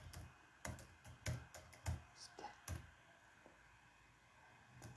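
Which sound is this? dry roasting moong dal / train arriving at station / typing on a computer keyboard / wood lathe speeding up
typing on a computer keyboard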